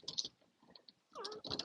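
A house cat makes brief meow-like cries close by, with faint keyboard-like clicks and other small household noises in between.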